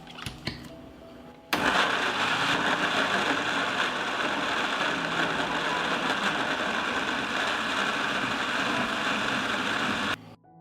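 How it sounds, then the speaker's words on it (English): A blender grinding sliced tomatoes roars steadily at high speed for several seconds, then cuts off abruptly, with a dense, grinding whir throughout. "I will grind the sliced tomatoes in a blender."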